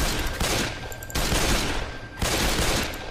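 Sustained automatic gunfire in Left 4 Dead 2, loud and continuous bursts of rapid shots with short breaks between volleys, close and dominant with no talking.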